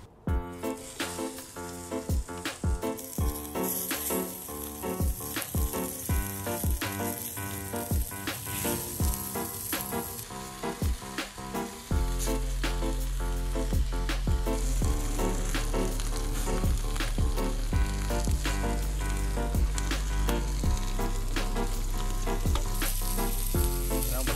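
Bluefin tuna tataki sears on a hot oiled plancha with a loud, steady sizzle and crackle, punctuated by sharp clicks and taps, then a deeper, fuller roar of frying in the second half.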